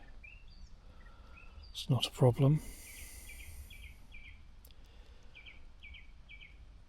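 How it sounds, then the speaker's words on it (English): Small birds chirping in repeated short calls, faint and steady in the background at a wild campsite, with a brief louder rustle partway through and a person speaking once. "Birds are going to keep me awake, aren't they?"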